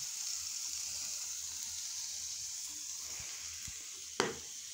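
Chicken frying on a makeshift stove on top of a locker in a prison cell, a steady close hiss of sizzling fat, with a few soft knocks and one sharp clank near the end.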